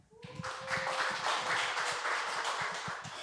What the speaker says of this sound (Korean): 나오실 때 아까보다 한 2배, 3배 뜨거운 열화와 같은 박수로 맞아주시면 좋겠습니다